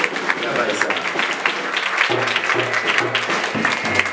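A church congregation at an evangelical service in Cap-Haïtien, Haiti, applauds a group with steady, sustained clapping, while a voice and low musical tones continue underneath.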